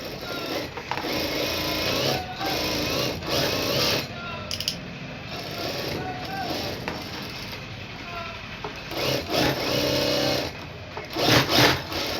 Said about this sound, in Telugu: ఇలా పెట్టేసుకొని ఇప్పుడు దీని చుట్టూ కూడా మనము స్టిచ్చింగ్ అనేది వేసేసుకోవాలి.